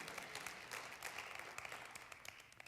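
A church congregation claps in steady applause, dense and continuous, heard faintly as if from a distance.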